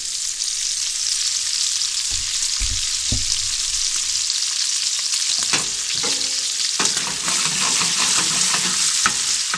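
Bacon fries in a pan until crispy, a steady bright sizzle and crackle throughout with occasional scraping and stirring knocks, close and loud, no talking.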